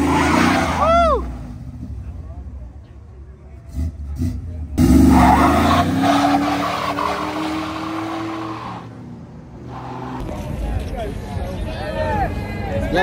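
At a Cars and Coffee meet in Morrisville, a Tesla's tires squeal in rising and falling sweeps as the car skids and spins out, loud and close, with excited spectators talking and shouting over it.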